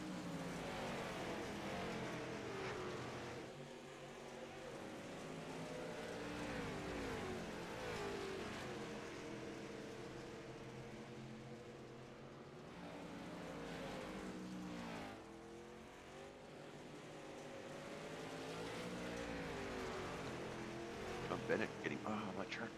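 Race cars circle a track in iRacing, engines droning steadily with rising and falling revs as cars pass, running throughout under a commentator's voice.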